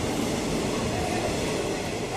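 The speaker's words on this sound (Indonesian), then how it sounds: "Oke, kereta ini akan menuju ke Cikarang." Commuter train heading toward Cikarang, a steady loud rumble of the railcar in motion heard from inside, continuous without breaks.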